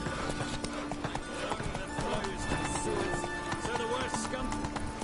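Horse galloping in the video game The Witcher 3, a steady run of hoofbeats under constant game music and ambience, with someone speaking over it.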